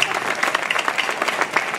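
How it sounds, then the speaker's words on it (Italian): A concert audience gives a brief round of applause for Daniele, close, steady clapping from many hands filling the short moment without pause. "E intanto un applauso per Daniele"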